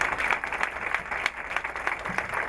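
Guests at a reception applaud the uncle and auntie with a close, steady patter of clapping that stays fairly even, with a few louder individual claps.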